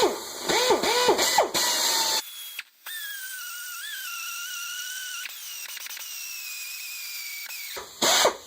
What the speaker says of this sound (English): You should probably wear hearing protection when using an air drill.